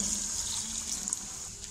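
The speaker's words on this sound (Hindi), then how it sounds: "अब हम इसमें 1 गिलास पानी ऐड करेंगे।" A glass of water poured into a cooking pot of tomato paste and chicken masala, a short soft steady hiss of splashing liquid, close and quiet.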